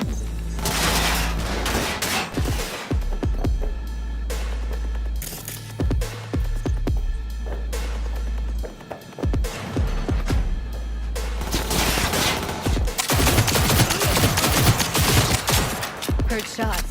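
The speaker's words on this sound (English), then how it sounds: "Heard shots." Gunfire in the video game Cyberpunk 2077: loud, sustained automatic bursts and a fusillade of shots over a low throbbing hum, briefly easing midway before an intense resumption.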